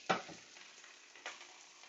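Butter sizzles softly in a hot pan with pastrami hash, a faint steady fry broken by two short scraping swirls near the start and middle, no voices.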